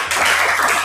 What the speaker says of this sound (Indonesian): Beri tepuk tangan ke Mas Yosi